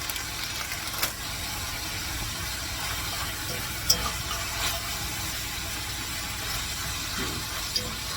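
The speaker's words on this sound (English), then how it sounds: "I do have water boiling here" A pot of water boils on the stove for cooking egg noodles, a soft continuous bubbling hiss with a few faint clicks and knocks.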